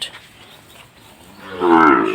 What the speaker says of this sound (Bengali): সুন্দর গরুগুলো